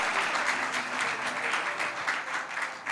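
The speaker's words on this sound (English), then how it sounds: "I think we can clap a little louder and harder." Steady, vigorous clapping from a conference audience at a Ugandan leadership convention, a dense continuous round of applause throughout with no pause.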